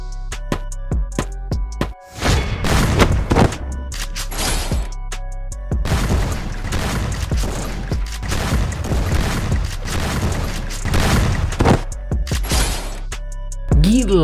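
Rapid bursts of Free Fire gunfire crack repeatedly in quick volleys during a Clash Squad match on the Kalahari map, loud and close, with short pauses between the salvos.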